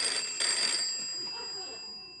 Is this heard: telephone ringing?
yes